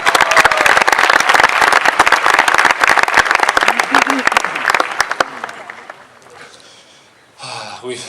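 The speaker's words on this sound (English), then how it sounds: "So give yourselves a round of applause." A graduating high school class at its commencement bursts into loud, dense applause and cheering that holds for several seconds, then fades out, followed by a short burst of crowd noise.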